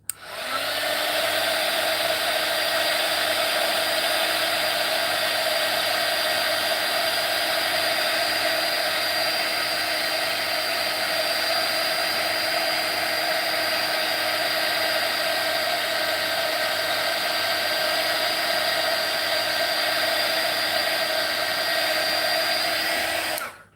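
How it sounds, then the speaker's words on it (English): A heat tool blows steadily to dry an art journal page, a loud constant whirring hiss running unbroken for over twenty seconds before it cuts off. "Let's nuke them with the heat tool before I smear my flowers"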